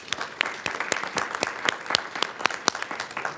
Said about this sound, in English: If we can give these students a round of applause.